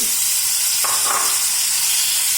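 Marinated chicken sizzling in coconut oil in a small pressure cooker for pepper chicken, a steady broadband frying hiss with a brief louder burst near the middle, close and continuous with no talking.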